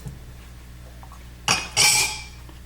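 Meat dropped into a large pot on a stove set to medium-high for a Haitian beef and vegetable stew, giving two close, loud wet clanking thuds about a quarter-second apart, the second longer and ringing against the metal.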